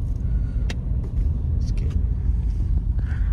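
A car rolls slowly while parking near a shopping plaza in Dammam, its engine and tire rumble low and steady from the cabin, with a few faint clicks and taps.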